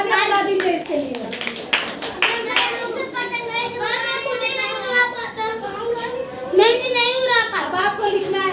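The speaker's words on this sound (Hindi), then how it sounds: "बहुत अच्छा, तालियां बजा दीजिए इसके लिए।" Children in a Hindi school classroom clap in a brief burst of applause, then children's voices chatter and speak over the room at close range.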